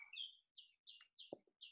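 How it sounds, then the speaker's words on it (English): Birds chirp outdoors in short bright repeated tweets with small gaps between them, near and clear, with no talking. "Birds are chirping right now."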